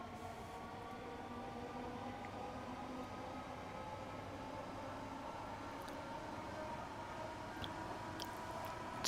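Passenger-cabin sound of a Southeastern Class 465/9 electric train in a train simulator game, a steady low rumble with a faint motor whine while running, with a few small clicks near the end.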